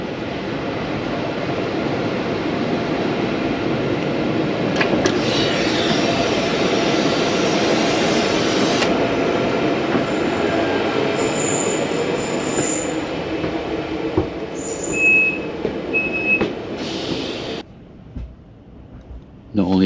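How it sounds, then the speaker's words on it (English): Steady rumble and rattle of an 8-car double-decker train running between Geneva and Nyon, heard from inside car four, continuous and fairly loud before easing off near the end. "this is an 8-car train"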